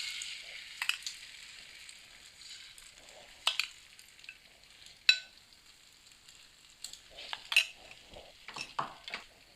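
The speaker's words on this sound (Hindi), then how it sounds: "अब हमने जो अंडों का मिक्सचर बनाया था, इसको आधे को डाल देंगे पैन के अंदर" Egg mixture poured into a pan of ghee sizzles with a faint, steady frying hiss, broken by sharp clinks of utensils against the pan at intervals.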